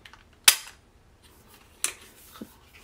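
A toy gun from a collection is cocked and fired, giving two sharp, close cap-gun-like pops about a second and a half apart, with a softer click after the second one and quiet in between.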